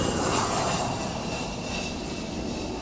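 An aircraft at the Royal International Air Tattoo makes a loud, close, steady engine roar for a few seconds, with a faint high whine riding over the broad rumble and no voices.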